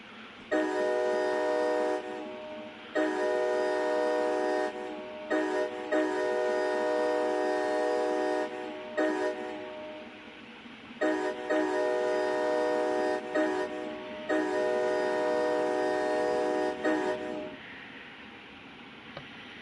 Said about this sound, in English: There we go, get the train going again.